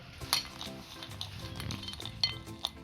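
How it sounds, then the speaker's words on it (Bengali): A spoon scrapes and clinks against a bowl while dried fruits, nuts and dry flour are stirred together, with soft, irregular taps and a few brighter chinks, close by and quiet. "এটা আবার এর সঙ্গে মিশিয়ে নেবো আমি এটা একটু শুকনো ময়দা মিশিয়ে নেবো মাখিয়ে নেবো"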